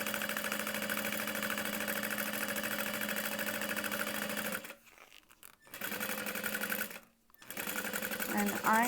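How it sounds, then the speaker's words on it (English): Sewing machine running steadily as it top stitches a crossbody bag 1/8 inch from the edge, a continuous close mechanical whir that pauses twice briefly before resuming. "I am just top stitching at 1/8 of an inch along all 4 sides"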